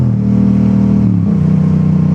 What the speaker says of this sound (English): Just the thrill of riding a motorcycle is nothing quite like it.